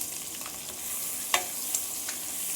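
Quail eggs are stirred into mushroom gravy in a pan over a low flame, giving a soft, steady sizzle broken by a few light spoon scrapes.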